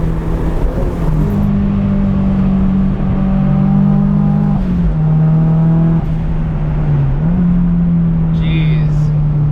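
An SR20-swapped Datsun 240Z driving at speed, its engine droning steadily from inside the car with small shifts in pitch, while people talk over the noise.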